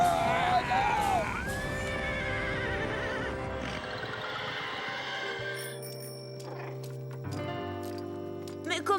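Horses neigh in the French animated cartoon Mona le Vampire, a shrill whinny standing out early over a busy mix of cartoon music and effects, followed by layered tones and clicks.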